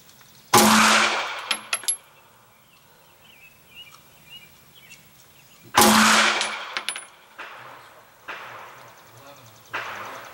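Two sharp pistol shots fired at a paper target during amateur handgun practice, a few seconds apart, each loud and close with a short ringing decay, followed by fainter clicks and small handling knocks.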